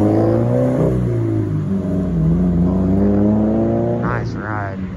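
Subaru WRX sports car driving past on a street, its engine note rising and falling as it approaches and goes by nearby, with someone speaking over it near the end.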